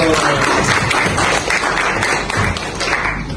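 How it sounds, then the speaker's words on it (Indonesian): A class bursts into applause, dense overlapping hand claps sustained at an even level for several seconds, close and lively, with a few louder taps standing out. "tepuk tangan dulu."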